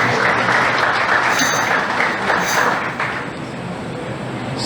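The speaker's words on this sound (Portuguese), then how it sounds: "Vamos aplaudir bem forte o nome do Senhor Jesus." A church congregation claps loudly and steadily during a worship service, the dense applause sustained throughout and fading slightly toward the end, with no talk over it.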